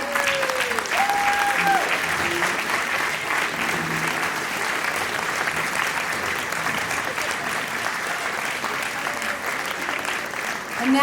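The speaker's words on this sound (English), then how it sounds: "So everyone stand and give yourself a round of applause." A standing audience applauds at a Hillel gala, with sustained dense clapping holding steady for several seconds and a few voices and cheers mixed faintly into the crowd noise.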